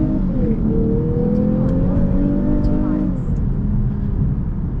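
A 2022 Lexus IS350 F Sport in sport mode pulls away hard from a traffic light, its engine note climbing steadily in pitch through the rev range and briefly dropping at a shift, loud and close from inside the cabin.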